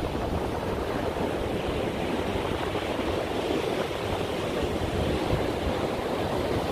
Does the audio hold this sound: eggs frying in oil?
no